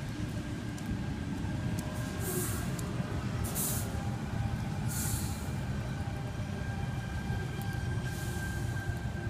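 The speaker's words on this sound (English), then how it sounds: "Arriving on platform 4 we have a Tangara." A Sydney Trains Tangara pulls into platform 4 at Seven Hills station during the afternoon peak, a steady low rumble with several short bursts of air hiss from the brakes.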